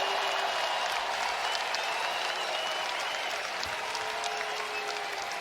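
A college basketball crowd in a Birmingham arena at a Purdue versus Auburn game gives sustained, dense applause, an even wash of many hands clapping from all around, with no clear talk.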